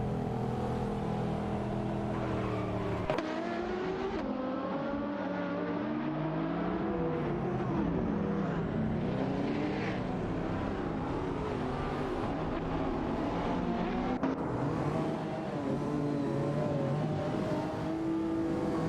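Engines of race cars, including a Mercedes SLR McLaren and an Audi, roaring in a video game race, a steady loud drone with shifting revving pitch throughout, no voices.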